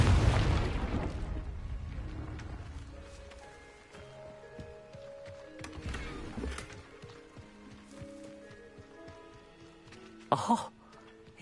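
A Confringo fire spell explodes in Hogwarts Legacy with a loud low boom at the start that fades into a rumbling tail, followed by softer game effects and a short sharp burst near the end.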